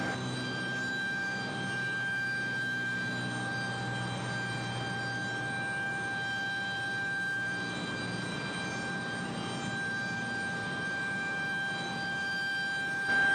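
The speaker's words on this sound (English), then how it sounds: "that APU down there below me is really, really loud" An aircraft auxiliary power unit runs loud and close at a gate at Raleigh-Durham International, a steady high whine with a bright sustained tone over a constant roar, unbroken for the whole stretch.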